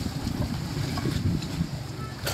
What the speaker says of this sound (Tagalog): Nga lang medyo mahangin. Kaya humahampas yung alon dito sa pinagkakatayuan natin.